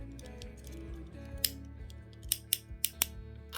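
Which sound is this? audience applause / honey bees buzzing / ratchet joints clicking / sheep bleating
ratchet joints clicking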